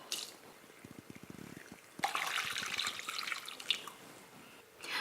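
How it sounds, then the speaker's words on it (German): Chicken broth for rice congee is poured through a sieve at close range: a few soft drips first, then a steady, splashing stream of liquid that runs for a few seconds before easing off. "mein Sieb stelle ich dann hinein und gieße das Ganze auch ab."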